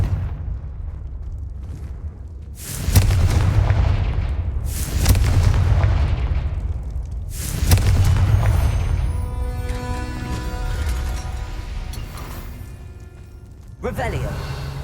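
Repeated Confringo fire-spell explosions in the Hogwarts Legacy video game, several loud booming blasts at intervals with rumbling tails and crackling debris in between.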